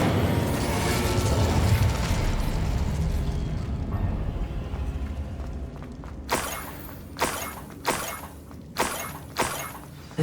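Incendio fire spell cast in Hogwarts Legacy, a loud roaring whoosh of flame that fades out, followed by a series of five sharp crackling bursts spaced about a second apart.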